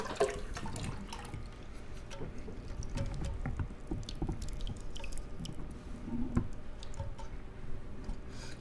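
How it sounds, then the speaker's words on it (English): Homemade eggnog is poured into a bowl, giving a soft, close liquid glugging and splashing with scattered drips, quiet and continuous, with no talk. "now we're gonna pour it into the bowl and pray to God that I do not spill it"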